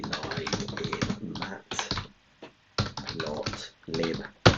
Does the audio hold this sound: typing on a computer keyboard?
yes